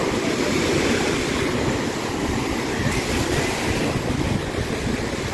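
Waves rolling in at high tide on a beach in Boracay, a close, continuous roar of surf mixed with heavy wind buffeting the microphone.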